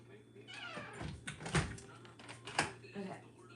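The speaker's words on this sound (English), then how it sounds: "I have to let the cat out." A house cat meows near a door as it is being let outside, with a couple of clear meows among faint clicks and handling noises over a steady low hum.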